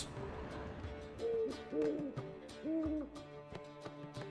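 An owl in The Witcher 3 gives several tonal hoots in short phrases, moderately close, over a soft ambient music bed with light tapping sounds.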